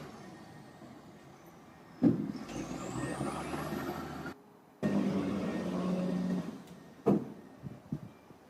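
A truck with air brakes rumbles steadily nearby and lets out sharp hissing bursts of air, with a few clunks toward the end and no talking.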